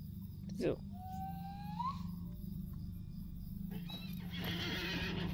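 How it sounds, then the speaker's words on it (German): A horse in the Lord of the Rings Online video game neighs in a rising whinny over a steady game ambience with soft clip-clop, followed by a brief rustling burst near the end. "Jetzt können wir Pferdchen wieder benutzen."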